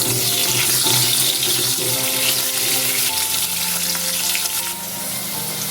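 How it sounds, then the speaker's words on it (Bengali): Potatoes frying in oil for a potol and soybean curry: loud continuous close sizzle and crackle with some stirring, easing slightly toward the end, no speech. "এবার আলুটা ভেজে নিচ্ছি।"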